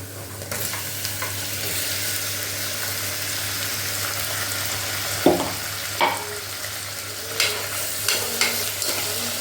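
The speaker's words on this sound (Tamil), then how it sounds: "தக்காளி நல்லா வதங்கட்டும் கொஞ்சம் நல்லா மேஷ் ஆகிற மாதிரி வதக்கிக்கோங்க" Tomatoes sautéing in a pan for taro root and potato kulambu: a steady frying sizzle with periodic spatula stirs scraping the pan, close and continuous, without speech.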